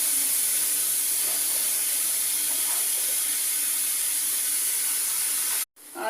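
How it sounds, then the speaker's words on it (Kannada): Cut ridge gourd goes into a pan of fried tomato, onion and garlic, and a loud, steady sizzling hiss runs without a break for several seconds, then cuts off abruptly near the end. "ಇದು ಹೀರೆಕಾಯಿ ಹಾಕ್ತಾ ಇದ್ದೀವಿ ಕಟ್ ಮಾಡಿ."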